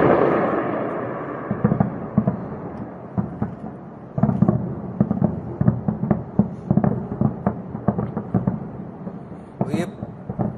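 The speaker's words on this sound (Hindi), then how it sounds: "उसके धमाके की आवाज लगातार आप सुन सकते हैं" Repeated sharp booms and thuds from bombing in the Israel–Iran war, irregular and fairly loud, some in quick clusters and others spaced apart, like distant explosions echoing over a rumbling background.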